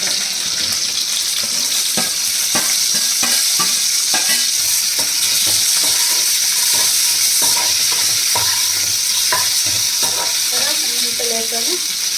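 Onions frying in oil for bitter gourd curry, a close steady sizzle with repeated sharp scraping and stirring knocks of a spatula in the pan, no talk.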